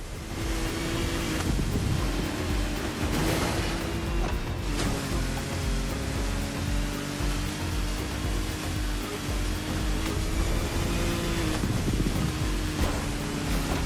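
Loud, steady engine roar with a sustained droning tone that shifts pitch, like racing boat motors in The Crew Motorfest revving continuously under rushing wind-like noise.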